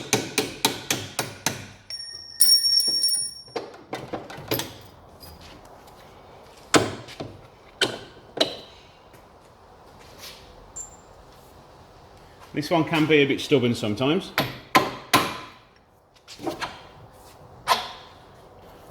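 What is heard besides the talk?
hammer and punch knocking out dog leg bolts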